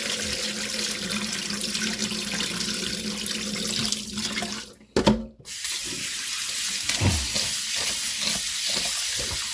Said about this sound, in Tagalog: kailangan tayo maghugas ng rice ng 5 times.